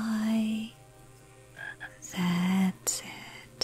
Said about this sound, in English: Froggy, froggy, frog, catch us a fly.